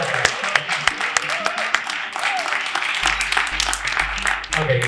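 Conference audience clapping again, a steady wash of many hands with a few sharper claps standing out early, continuing loudly to the end under some low background noise.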